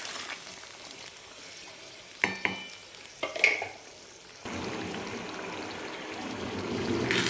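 Mutton sukka cooks in a pan, with a few clattering stirring knocks in the middle and then a steady, close sizzle of frying that grows louder toward the end. No one speaks.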